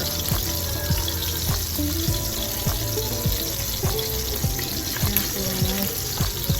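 Trout fillets sear in a hot pan with a steady, close sizzle, broken by regular soft knocks and scrapes from the cookware.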